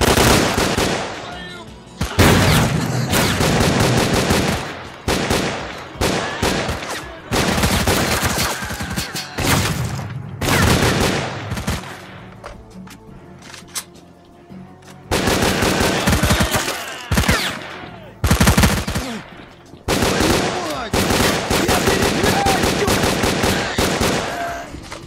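Heavy firefights in S.T.A.L.K.E.R.: Clear Sky: repeated loud bursts of automatic rifle fire and single shots, close and echoing, broken by short pauses, with a voice speaking in between.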